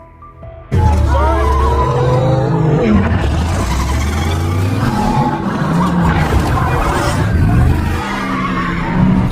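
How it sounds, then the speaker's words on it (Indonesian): A car accelerates hard and speeds away during a police chase, its engine roaring loudly and steadily for several seconds with tire squeal and a dense, busy mix of noise around it. "Luc justru tancap gas dengan kecepatan tinggi, memicu aksi kejar-kejaran sengit dengan pihak kepolisian."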